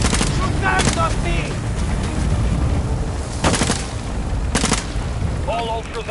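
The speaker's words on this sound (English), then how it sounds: "Shoot guns on me!" Several sharp bursts of gunfire crack out over a heavy low rumble, with voices talking between them.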